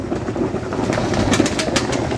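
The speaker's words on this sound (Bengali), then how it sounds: "সেই কবুতরগুলো ক্ষুদা লাগছে অবশ্য পাড়াপাড়ি করে খাচ্ছে" Pigeons feeding after rain, a flock cooing in overlapping low throaty calls with pecking and fluttering around, close and steady with no talk.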